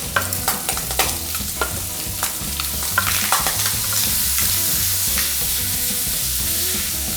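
Bacon frying in a pan for an oven-roasted green bean and chickpea dish, a steady close sizzle with repeated scraping stirs and clinks of a utensil, continuing alone without talk.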